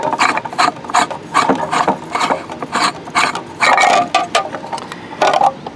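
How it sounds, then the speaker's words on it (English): Ring being unscrewed from a Whelen speaker driver, giving a series of short raspy scraping and clicking twists in an irregular rhythm, close up with no talking. "we can take this off by just simply unscrewing it"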